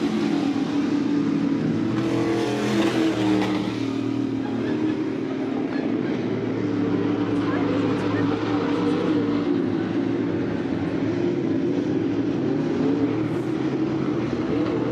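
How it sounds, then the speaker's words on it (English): Dirt track race cars run three wide into a turn at a speedway, their engines droning together in a loud, continuous roar with a commentator talking over it. "You got Toniolo, Mills, and Dick battling 3 wide coming in turn 4"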